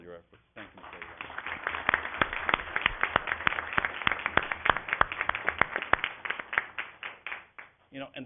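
A board meeting audience gives Mr. Aguilar a sustained round of applause, dense clapping building quickly and holding steady for several seconds before tapering off.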